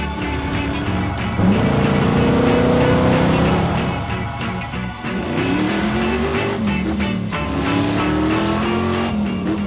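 Two 1960s American cars drive along a road in the UK, their engines rising and falling as they accelerate and shift, heard close and loud with a rolling mechanical roar.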